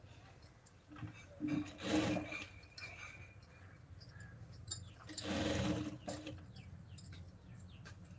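A sewing machine stitches a lined blouse in bursts of fast mechanical whirring, with short runs separated by quiet pauses and soft handling clicks of the fabric close by.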